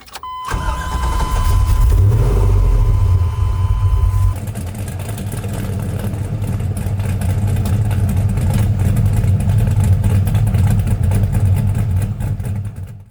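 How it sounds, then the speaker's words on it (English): A hot rod Chevy OBS truck engine of over 500 horsepower cranks and fires up, then settles into a loud, rumbling idle that runs steadily close by. "why don't I fire it up so you can hear what it sounds like."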